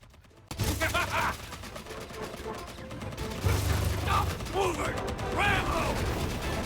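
Rapid video game gunfire from Contra: Operation Galuga rattles in sustained mechanical bursts with electronic effects, while a player talks over the action.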